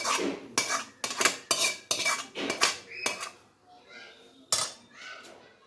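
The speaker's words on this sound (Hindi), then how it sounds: "अच्छी तरह फ्राई कर लेंगे, कच्ची ना रहे।" Macaroni being fried and stirred in a pan for creamy chicken macaroni, heard as a run of sharp, close metallic scrapes and clatters of a spoon on the pan, thinning toward the end with a few softer knocks.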